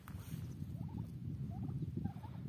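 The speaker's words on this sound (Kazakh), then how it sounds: "күрке тауықтар жайылып жүр." Turkeys grazing outdoors on a farm, a few faint gobbling calls in quick bursts over a low rumbling background, with no talking.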